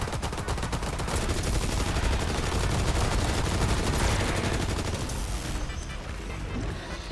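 Dense, loud gunfire from the Call of Duty WW2 video game, sustained rapid automatic bursts with heavy booms running nearly continuously, easing slightly near the end.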